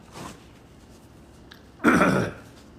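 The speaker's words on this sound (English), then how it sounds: "I just needed to clear my throat." A man clears his throat in two short bursts, a faint one at first and then a louder, rasping one close to the microphone, in an otherwise quiet room.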